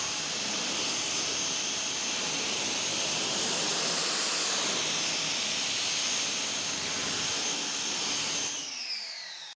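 A high-flow 4.2 GPM pressure washer sprays through a 40-degree nozzle at about 600 to 700 PSI. It gives a loud, steady, close hiss and roar that holds for several seconds and then cuts off abruptly near the end.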